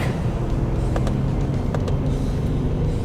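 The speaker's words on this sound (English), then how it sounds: "when you put your foot down, it gets really busy, really quick" A Mercedes-Benz GL 63 AMG accelerating hard, its engine giving a steady, loud, dense roar that holds throughout with no voices.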